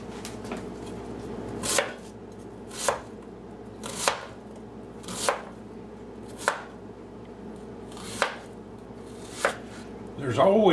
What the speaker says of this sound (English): the first task today is to dice the onions, celery, red and green pepper